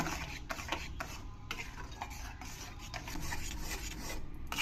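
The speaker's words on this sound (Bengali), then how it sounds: "এটা বানাতে গেলে এরকম করে খুন্তিটা চালাতেই থাকতে হবে থামলে হবে না" A spatula is stirred nonstop through a thickening modak mixture in a pan for Ganesh puja, producing a steady rhythmic scraping and rubbing close by with faint clinks.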